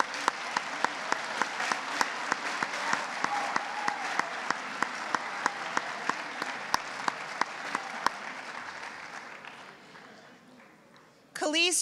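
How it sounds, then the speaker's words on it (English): Audience applause at a high school varsity sports banquet: sustained, fairly close clapping from a large crowd that tapers off toward the end, followed by a brief burst of sound. "please rise so we can applaud for you"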